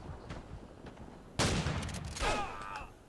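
Bolt-action rifle gunfire in the shooter Call of Duty 3, a sharp loud shot with a ringing tail followed by another burst of gunfire, amid quieter background battle noise.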